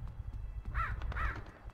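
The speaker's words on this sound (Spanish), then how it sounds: "Vale, cuervos." Two harsh crow caws from Luigi's Mansion 3, set in a horror hotel, sounding fairly close and evenly spaced about half a second apart over a low background rumble of game ambience.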